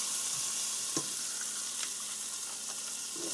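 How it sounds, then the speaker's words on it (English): Onions sizzling in a pot of corned beef being cooked, a steady close frying hiss with a few soft clinks and stirring touches, no talk. "So now I'm going to go ahead and put in my onions."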